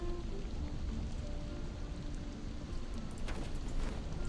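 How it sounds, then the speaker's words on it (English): Steady rainfall in the RuneScape: Dragonwilds video game, a dense, even hiss of drops on the ground that continues without a break, alone and at a moderate level. "It's already raining, that's great."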